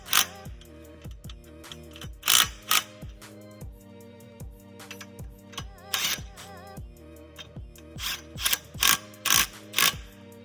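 A ratchet wrench tightens the center bolts on a Maverick stand during assembly, giving repeated close clicking strokes in bursts with a few sharper, louder clacks.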